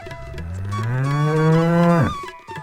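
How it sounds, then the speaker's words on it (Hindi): A cow lets out one long, loud, close moo that rises and holds before cutting off, with no voices present. "गोरी बार बार रंभा रही थी"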